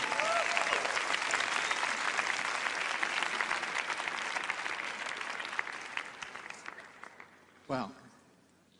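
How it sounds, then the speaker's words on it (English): A large audience at a debate between scientists applauds a speaker's introduction, loud sustained clapping that gradually thins and fades, with a voice and some crowd noise near the end. "Un aplauso al profesor Michio Kaku."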